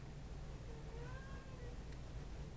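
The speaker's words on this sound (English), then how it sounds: "Ignore that sound over there. That's a small cat that's very irritating." A small cat meows faintly in the background, a few thin, drawn-out cries over a steady low hum of room noise.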